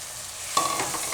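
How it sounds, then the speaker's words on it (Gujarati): Boiled potatoes dropped into hot oil with rock salt and coriander, a sudden burst of sizzling that swells and holds, close by with a brief scrape. "હવે આપણે એમાં બટેટા નાખી દઈશું બાફેલા"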